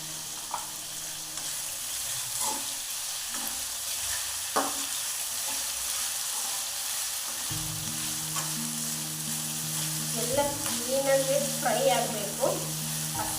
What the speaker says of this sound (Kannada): ವಾಸನೆ ಎಲ್ಲ ಬಿಡೋ ಬಿಡೋವರೆಗೂ ಇಲ್ಲ ಫ್ರೈ ಆಗ್ತಾ ಇರಬೇಕು ಈ ಥರ